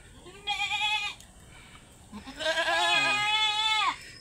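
A goat bleats twice nearby, a short cry followed by a longer wavering one, in a quiet setting.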